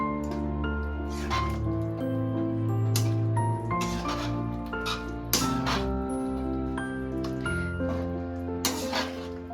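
Vegetable kurma coming to a boil in a pot, with a steady bubbling, squishing simmer and occasional soft drips and clinks, close and continuous with no talk.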